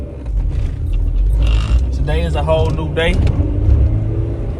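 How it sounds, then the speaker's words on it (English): A car engine rumbles steadily from inside the cabin while driving to a Kroger store, a low constant drone under a man's speech. "let's get in this car, let's go to Kroger"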